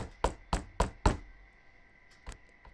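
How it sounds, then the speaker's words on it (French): Four quick, sharp knocks land on a sturdy wooden door, close and hard, followed after a pause by one more single knock. "Pendant qu'il tape à la porte."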